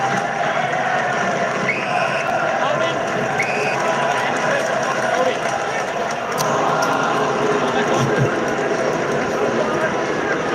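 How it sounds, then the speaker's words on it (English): A large stadium crowd at an AFL football match at Marvel Stadium, Richmond against the Gold Coast Suns, roars and murmurs in displeasure in a steady, loud wash of noise with a commentator talking over it. "Crowd's still not happy with it."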